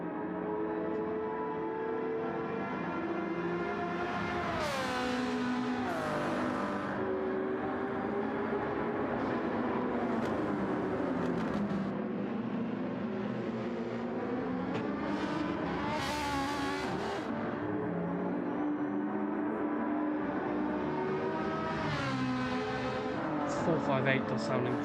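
Ferrari 458 and Ferrari 296 race cars battle in a Gran Turismo 7 six-hour endurance race at Yas Marina, their engine notes rising and falling continuously beneath steady commentary.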